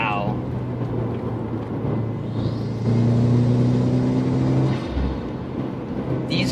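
A 2016 Subaru WRX pulls hard along back roads, and its engine rumble rises to a louder, steadier drone midway through before easing off again. Low cabin and road noise run throughout.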